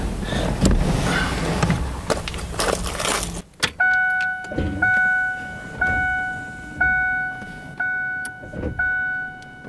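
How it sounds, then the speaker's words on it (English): Windshield wiper running on a Ford Explorer: after some nearby rustling, clattering and a sharp knock, a steady series of about six short, tonal sweeps repeats roughly once per second, close and distinct. "I know the windshield wiper's working because I can hear it working."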